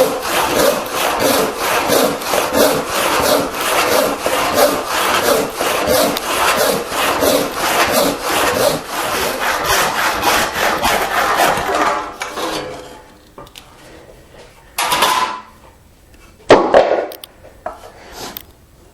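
A hand saw rips a workbench leg clamped horizontally to a saw bench, cutting along rough stock: fast, even back-and-forth rasping strokes run steadily and loudly for about twelve seconds, then stop, followed by a few isolated scrapes.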